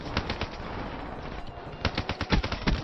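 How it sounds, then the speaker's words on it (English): Sentry gun in Call of Duty: Black Ops 3 firing rapid automatic bursts, sharp cracks in fast clusters at moderate distance, growing denser and louder toward the end. "Fucking sentry gun."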